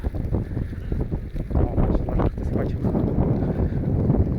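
Gusty wind buffets the microphone with low, rumbling bursts that rise and fall continuously, with sheep nearby.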